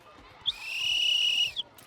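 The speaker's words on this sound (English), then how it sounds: "when somebody blows a whistle like this" A single whistle is blown in a dull, long way at a children's basketball program: one steady, clear tone that starts with a short chirp, holds for about a second, then cuts off with a brief trailing blip.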